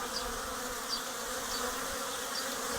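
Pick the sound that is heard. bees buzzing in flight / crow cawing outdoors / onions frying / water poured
bees buzzing in flight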